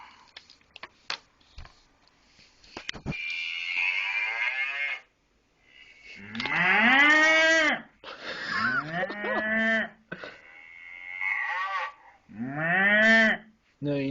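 A man imitates a cow with his voice, giving several long, drawn-out moos close up. Quieter breathy and bleating-like vocal sounds and pauses come between the moos.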